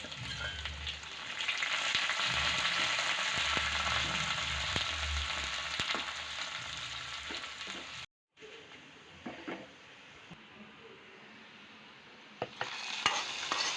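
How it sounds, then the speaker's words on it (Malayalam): Mustard seeds, shallots, dried red chillies and curry leaves tempering in hot coconut oil, a loud close sizzle with stirring scrapes that cuts off abruptly, then fainter crackling continues. "വെളിച്ചെണ്ണ ഒഴിച്ച് കടുവൊക്കെ ഇട്ടൊന്ന് പൊട്ടി വരുമ്പോഴേക്കും കുറച്ച് ചെറിയ ഉള്ളിയും വറ്റൽമുളകും കറിവേപ്പിലയും കൂടി ഇട്ടൊന്ന് വറുത്തെടുക്കുകയാണ്"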